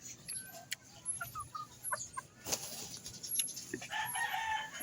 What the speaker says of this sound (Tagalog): Maraming manok kasi dito.